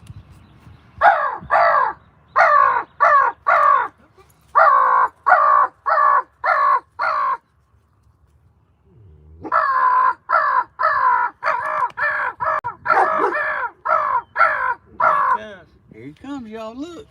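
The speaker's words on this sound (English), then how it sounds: "I see a crow." A crow caws loudly and close in long rapid series of harsh calls, with a brief pause midway before another burst of caws and a final warbling call.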